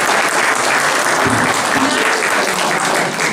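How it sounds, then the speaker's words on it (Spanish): Dense, loud applause from an audience at an award ceremony honoring philanthropic women, a continuous wash of many hands clapping without pause. "un aplauso para él"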